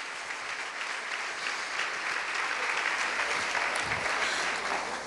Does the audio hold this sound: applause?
yes